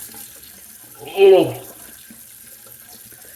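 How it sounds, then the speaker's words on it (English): Cold water running briefly from a tap into a cupped hand during a shave with a vintage Weck razor, a short splashing gush about half a second long, with a quiet exclamation from a person. "Let me put some ice cold water in my hand."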